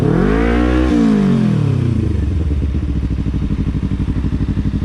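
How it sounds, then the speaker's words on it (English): A loud motorcycle engine revs hard close by, the pitch climbing then falling back to a rough, pulsing idle, with no talk over it. "He said my bike makes too much noise."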